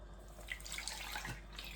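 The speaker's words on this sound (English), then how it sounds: "So now I am going to be pouring my water" Water is poured onto cornmeal for Jamaican cornmeal porridge with peanuts, a soft, close, continuous trickle and splash lasting under two seconds, with no voices.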